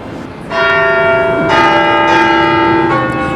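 The bells of Notre Dame cathedral in Paris, now rung electronically, toll loudly with rich, overlapping resonant strikes that layer into a sustained ringing wash.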